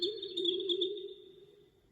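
Bird-like chirping made by feedback through a Make Noise QPAS filter and Mimeophon delay, a steady warbling synthetic tone with fluttering high chirps that slowly fades out, close and clean.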